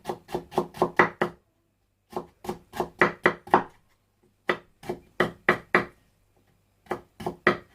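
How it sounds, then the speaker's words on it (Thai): A knife finely shreds lettuce on a board, sounding as quick bursts of crisp chops in close rhythmic runs of four to six strokes separated by short pauses, loud and near with no talk. "เดี๋ยวผักกาดหอมจะหั่นฝอยค่ะ"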